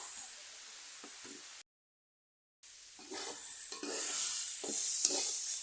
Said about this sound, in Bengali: শাকগুলো নেড়ে সেড়ে ভাজা ভাজা করে নিতেছি